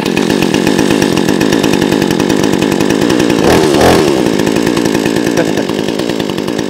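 A cheap gasoline chainsaw bought on Amazon runs loud and close with a steady, buzzing two-stroke drone that surges briefly in the middle before settling back to a constant roar.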